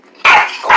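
A dog barks loudly up close at someone's feet, two sharp, harsh barks in quick succession with no talking over them.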